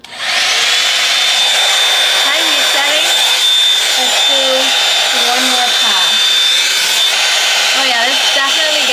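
A Shark SmoothStyle blow dryer runs on its high heat setting, a loud, steady close whine and rush of air throughout, with someone talking over it.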